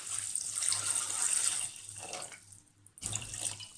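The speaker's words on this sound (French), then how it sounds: "J'ajoute l'eau" Water is poured in while cooking, a close hissing splash with a brief pause before the stream resumes, no voices over it.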